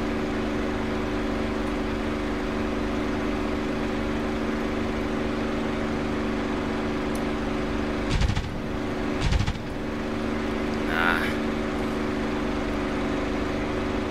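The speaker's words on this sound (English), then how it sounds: "I've been pushing my engine past full manifold pressure" A WWII fighter's piston engine drones steadily in the DCS flight sim, pushed past full manifold pressure low over the deck, with a couple of brief rushing swells partway through and no voices.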